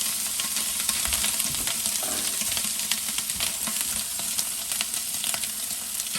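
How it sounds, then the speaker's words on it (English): Sausage sautéing in a pot for Louisiana gumbo, giving a dense, constant sizzle and crackle throughout with occasional faint clinks. "we're going to throw in the sausage. And that's going to start sauteing."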